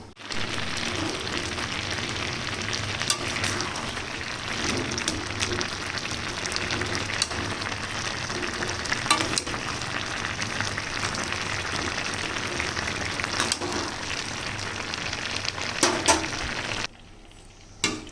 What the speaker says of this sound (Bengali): তেল গরম হয়ে গেছে শুকনো লঙ্কা কালো জিরে